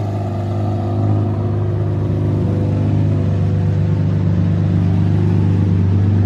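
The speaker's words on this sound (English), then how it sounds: "This Murcielago sounds so insane." A Lamborghini Murciélago engine with an aftermarket exhaust idles with a deep, steady low rumble and a throaty exhaust drone, loud and close, holding constant without clear revs.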